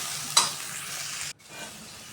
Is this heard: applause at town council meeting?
no